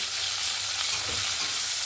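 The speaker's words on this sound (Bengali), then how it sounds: "পেঁয়াজ টমেটো কাঁচা লঙ্কাটাকে একটু ভাজা ভাজা করে নেব" Steady, loud sizzling of onion, tomato and green chillies frying in hot oil, a dense crackling hiss that continues without pause.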